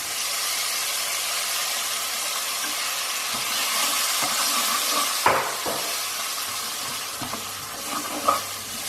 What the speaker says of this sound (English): Just going to add a splash of water to that.